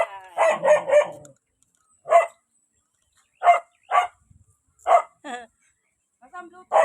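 A dog barks in short, sharp bursts, a quick cluster at first and then scattered single barks with quiet gaps, fairly close.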